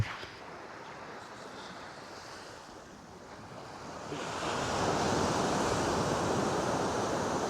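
Sea waves wash onto the beach of an island at Chilika, Odisha, with a steady roar of surf and wind rush that swells louder about halfway through and continues without pause, no voices heard.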